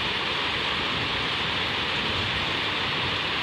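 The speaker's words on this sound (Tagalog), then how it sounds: "It's raining again, guys." Steady rain pouring on a Friday afternoon, a dense, even hiss with no distinct drops, constant and moderately loud throughout with no voices.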